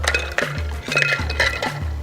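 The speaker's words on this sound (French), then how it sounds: "Maintenant, les glaçons." Ice cubes dropped into a cocktail glass of orange and pineapple juice, giving a few close, bright clinks and clatters in quick succession over a steady low background hum.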